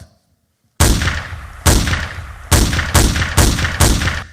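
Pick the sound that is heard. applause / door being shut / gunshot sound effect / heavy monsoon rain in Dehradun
gunshot sound effect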